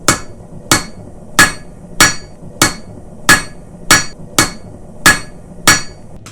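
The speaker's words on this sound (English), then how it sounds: "we'll just hit a couple times there, flip it over, one more there" Ten sharp, ringing hammer blows on hot metal while forging a Christmas ornament, evenly spaced about every two-thirds of a second, loud and close with no talking.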